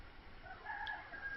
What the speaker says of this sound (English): the roosters are going off again